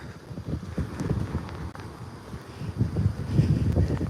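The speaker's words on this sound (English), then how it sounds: "Oh, it's windy a little, sorry." Low, uneven rumbling gusts of wind buffet the microphone outdoors on the outskirts of Kampot, Cambodia, rising and falling in strength throughout with no voices.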